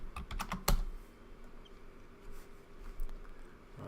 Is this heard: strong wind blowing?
no